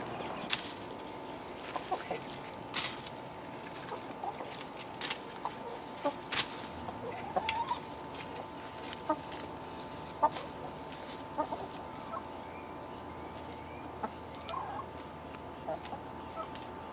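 Homestead chickens cluck intermittently at close range, with scattered short calls spread over a quiet outdoor background. Faint human vocal sounds can be heard now and then.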